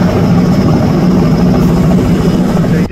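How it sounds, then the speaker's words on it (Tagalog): A helicopter close by gives a loud, continuous thudding rotor beat with a heavy, low engine roar that stays strong the whole time, with no voices over it. "Medyo maingay yung helicopter ng social nating kapitbahay."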